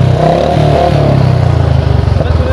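A Bullet motorcycle engine idles and revs with a steady low thumping rumble, loud and close, running continuously without talk over it.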